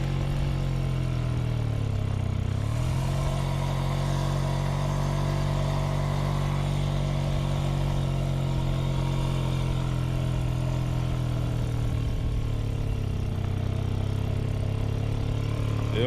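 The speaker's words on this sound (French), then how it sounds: "Premier roulage avec le Mobix." An old Motobécane Mobyx moped, unrun for over forty years, chugs along on its first ride, a steady close two-stroke buzz that dips and rises slightly in pitch.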